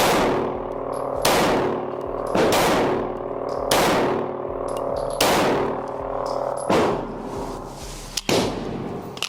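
Pistol shots from a BUL Armory SAS2 EDC Pro crack out in a steady series of about seven sharp, loud reports, each ringing briefly into a metallic echo before the next, all close by and with no talking.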